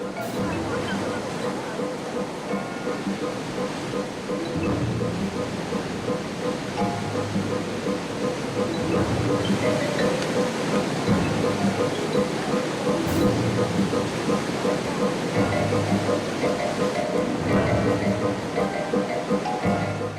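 An angry river rushes over rocks where fishermen work, a dense, continuous roar of churning water that grows slightly louder midway and stays steady throughout.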